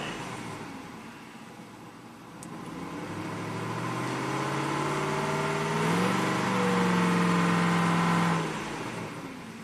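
A 2009 Ford F150 V8 revs up from idle, the engine note climbing in pitch and holding high before dropping back, close and fairly loud in a quiet garage setting.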